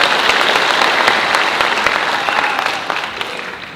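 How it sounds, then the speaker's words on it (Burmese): A church congregation claps to welcome people onto the stage, a loud, dense burst of applause that holds steady and then slowly eases off toward the end. "ကျေးဇူးပြုပေါ်တက်လာပေးပါပေါ်တက်ပြီးတော့နော်လက်ခုပ်တီးပြီးကြိုဆိုပေးပါ"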